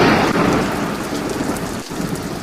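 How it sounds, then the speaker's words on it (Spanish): Steady heavy rain hisses at a wooden church in Poland, with a low rumble of thunder underneath throughout. "La lluvia irrumpe."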